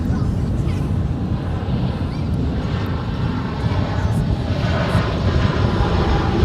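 An airliner at Dallas-Fort Worth International Airport roars steadily with a loud, deep engine rumble and broad hiss that holds without a break, close by.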